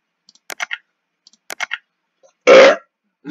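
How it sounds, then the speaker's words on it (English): A loud, short burp erupts alone after several quiet mouse clicks during a computer game session, with another burp beginning at the very end. "Nice burp."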